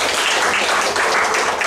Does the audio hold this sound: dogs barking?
no